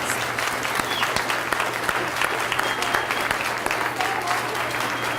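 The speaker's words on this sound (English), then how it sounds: "Let's give these guys a round of applause." A crowd claps steadily, a dense continuous applause that stays even and moderately loud throughout.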